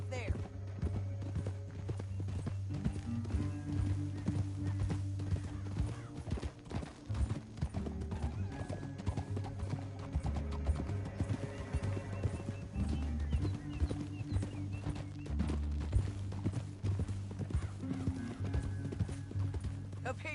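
Horse hooves clip-clop steadily through an outdoor scene in the video game Red Dead Redemption 2, mixed under a continuous music score and voices talking throughout.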